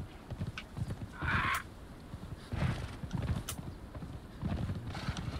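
Pony riding footsteps in the video game Conan Exiles, a quick rhythmic clip-clop of hooves on the ground with occasional whinnies, moderately near and alone without talk.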